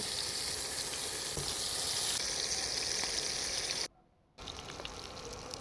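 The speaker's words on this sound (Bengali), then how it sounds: "তারপরে মাছটাকে আমি ভেজে নেব" Tangra fish sizzle and spit in hot mustard oil in a wok, a close, steady crackling hiss that drops out briefly near the end before resuming.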